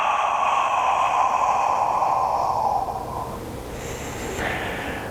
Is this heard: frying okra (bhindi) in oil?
no